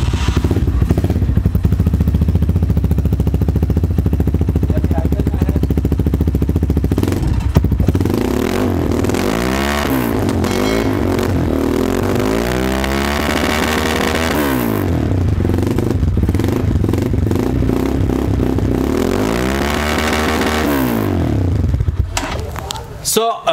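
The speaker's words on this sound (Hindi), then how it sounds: "चलिए साउंड चेक करते हैं इसकी कि साउंड कैसी प्रोड्यूस करता है 150 इंजन इसका" A Winner VBR 150cc, 21 HP motorcycle idles with a steady putter, then revs repeatedly. Its engine note sweeps up and falls back in several distinct throttle blips, close and loud.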